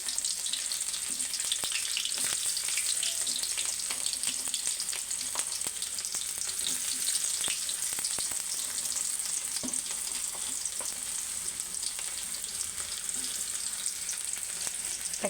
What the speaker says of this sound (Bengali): সাদা তেল দিয়ে দিয়েছি। দিয়ে দেব পেঁয়াজ আর রসুন কুচি।